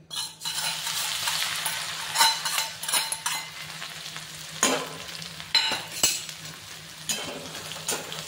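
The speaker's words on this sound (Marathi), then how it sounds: "फोडणीसाठी कुटून घेतलेलं लसूण आपण तेलात घालून घेऊया।" Crushed garlic hits hot oil for a wild-greens curry, giving a loud continuous crackling sizzle with repeated spatula stirs and scrapes against the pan throughout.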